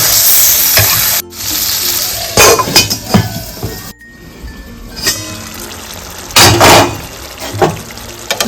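Goat liver poured into hot spiced oil in a pan, loud close sizzling and frying with metallic clinks and stirring scrapes, bursts of spattering that swell and fade.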